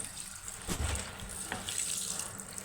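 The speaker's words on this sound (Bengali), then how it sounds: "সুন্দরভাবে ধুয়ে নেব এটাকে" Tap water runs steadily into a sink while leafy greens and potatoes are rinsed under it, a close continuous splashing wash with no talking.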